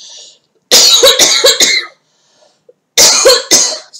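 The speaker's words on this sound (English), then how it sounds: "Sorry, a bit of a cough there." Two bouts of harsh, hacking coughs, several sharp coughs in each, loud and close, separated by a short pause.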